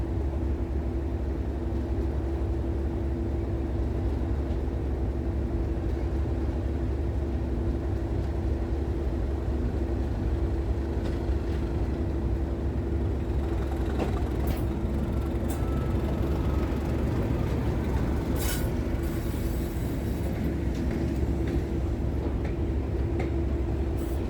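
An EWS Class 37 diesel locomotive's low, steady engine drone with a constant hum, heard at moderate distance at a North Yorkshire Moors Railway diesel gala, with faint rattles and clanks midway.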